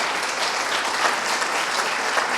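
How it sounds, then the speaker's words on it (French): Steady, dense applause from an audience filling the room at an evening celebration marking a foundation's 15th anniversary, a continuous wash of many hands clapping with no voices over it. "Je propose même qu'on l'applaudisse"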